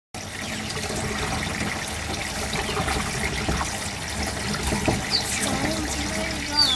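Water trickles and gurgles steadily through a bell siphon in a backyard barrel aquaponics system, with a continuous close splashing flow and small bubbling bursts.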